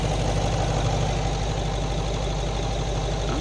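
A Range Rover L322 3.6 V8 diesel idles steadily close by, a low, even burble with a faint rhythmic knock running unbroken throughout.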